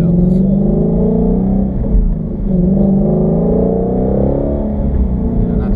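A Ford Shelby GT350 rumbles as it revs and accelerates, a loud, deep, continuous engine roar heard close up from inside the car, with its pitch wavering slightly as the revs build.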